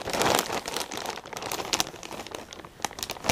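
A plastic mail package holding a Webkinz Saint Bernard plush is handled and torn open up close, with continuous crinkling and crackling of the plastic and sharp rustling bursts.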